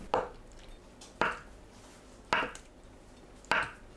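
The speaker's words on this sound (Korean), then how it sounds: "두부를 한입 크기로 썰어줍니다." A knife cuts tofu into bite-sized pieces on a cutting board, four soft, evenly spaced thuds about a second apart, close and fairly quiet.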